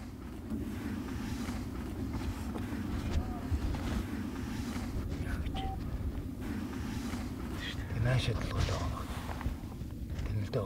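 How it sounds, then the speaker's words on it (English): Strong wind buffeting the microphone during a mountain argali sheep hunt in Mongolia, a constant low roaring rumble throughout with gusts rising near the end, and faint voices underneath. "It's windy as can be, but that's sheep hunting."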